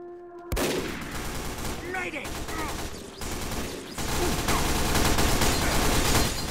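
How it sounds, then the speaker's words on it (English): Dense, rapid submachine gun fire in the Team Fortress 2 video game rattles almost continuously in loud, overlapping bursts, with other battle effects mixed in and a brief lull near the middle. "So much SMG fire."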